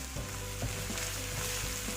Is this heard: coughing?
no